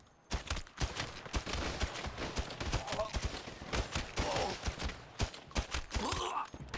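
Rapid bursts of close, loud gunfire in GTA 5 crack in quick succession, dense volleys with brief gaps between them.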